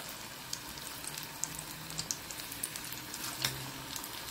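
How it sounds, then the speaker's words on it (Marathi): Spinach fritters (palak bhaji) fry in hot oil, giving a faint, steady crackling sizzle with scattered soft pops and light clicks, heard alone without talking. "तेल गरम झालं, आता एक एक भजी काढायची"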